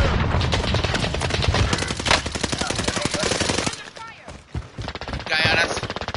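Rapid bursts of video game gunfire from an online shooter match crackle nearby in dense volleys that ease off partway through, with team voices talking over the shots.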